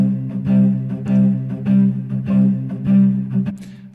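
Synthesized string pattern struck only on each downbeat, sounding as a steady, sustained chord that swells on a regular pulse roughly every half second with no voices.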